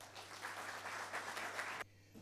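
An audience at a management and HR conclave applauds to welcome a speaker, a steady wash of clapping that cuts off abruptly after a couple of seconds.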